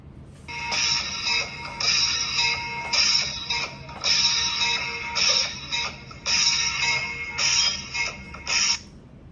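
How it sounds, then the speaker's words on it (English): A lezim, an Indian jingling instrument of metal discs, shaken in rhythmic bursts, a bright rattling shimmer repeating in short phrases with brief gaps, loud and near, no speech. "Then we have something called lezim."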